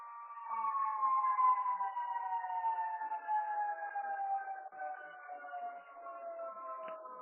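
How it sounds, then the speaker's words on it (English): Siren outside a building during a conference call, a steady, faint wailing tone drifting slowly downward in pitch, heard from a distance without any talk over it. "there is a siren going behind"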